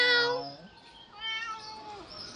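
A cat meows twice up close, first a loud drawn-out cry, then a softer, higher meow after a short pause, with no talking.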